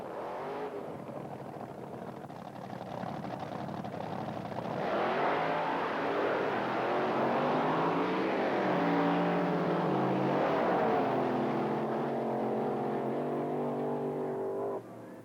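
Loud Chrysler Hemi-powered door slammer drag cars from 1980s Australian drag racing roaring down the strip, a sustained engine blare that swells after a few seconds and holds steady, with no talk over it.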